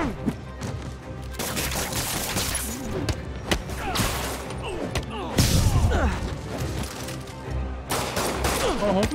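Rapid gunfire bursts from thugs in Marvel's Spider-Man on PS4, dense overlapping shots and thuds filling the whole stretch alongside game music and shouted voices.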